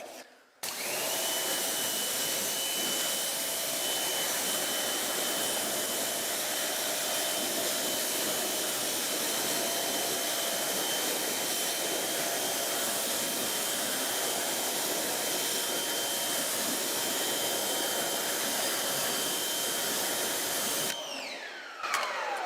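Water sprayed hard onto a ceramic-coated car wheel and tire, rinsing off wheel cleaner and loosened grime; a steady, loud rushing hiss with a machine whine runs unbroken for about twenty seconds, then cuts off.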